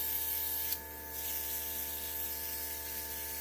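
An airbrush sprays makeup foundation in light layers with a soft, steady hiss that dips briefly near the start, then carries on evenly and close, with no talking.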